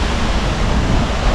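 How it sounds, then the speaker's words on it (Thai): Wind blows steadily at a waterfall in southern Laos, a continuous broadband rush and rumble buffeting the microphone with no voices. "ลมพัดเย็นดีครับเลยนะ"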